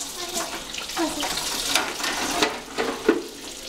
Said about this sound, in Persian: آبو ببند نه آب زیاد داره میره